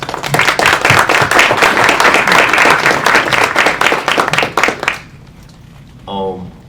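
A quick round of audience clapping for panelists at a youth event, dense and steady for about five seconds before stopping abruptly, followed by a brief faint voice.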